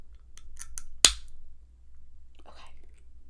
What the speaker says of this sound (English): I'm going to use scissors as a lever.